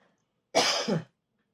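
A single harsh cough, close and loud, with a brief throaty second burst, surrounded by silence.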